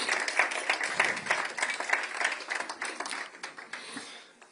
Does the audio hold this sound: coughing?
no